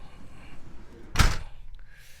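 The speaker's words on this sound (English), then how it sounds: "Close the door" A single solid door thud lands mid-clip, short and fairly close, over a soft background hiss.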